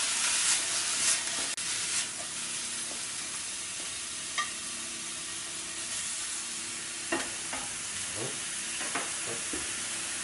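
Wild mushrooms sizzling and browning in a hot pan, a steady frying hiss punctuated by occasional soft pops and light clicks of stirring, close and with no voices.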